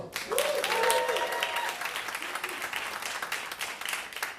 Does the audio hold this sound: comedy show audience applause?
yes